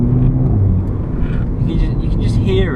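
Volkswagen Polo GTI with DSG gearbox and resonator delete, heard from inside while driving: a steady, loud engine and exhaust drone with rumbling low end, and a brief rising whir near the end.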